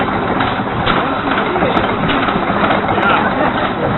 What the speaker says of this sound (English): A 2-cycle engine demonstration.